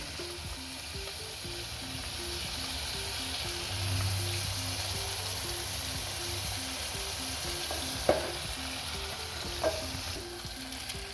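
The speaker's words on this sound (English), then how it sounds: "On this other side, my meat is still cooking." Meat fries in a pan with a steady, close sizzle that runs throughout, broken by a couple of brief utensil clicks near the end.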